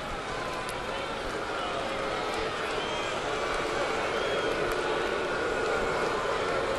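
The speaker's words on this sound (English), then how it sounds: "Crowd getting restless here in the stadium" A restless baseball crowd at a Toronto at New York Yankees game on July 4, 2009 gives off a steady, dense murmur throughout, with a broadcaster's voice talking over it.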